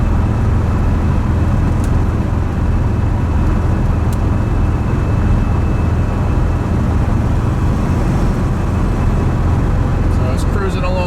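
A 1977 Chevrolet Corvette cruising smoothly at about 60 mph, its engine giving a steady, loud low drone mixed with road and wind rumble from inside the car for the whole stretch.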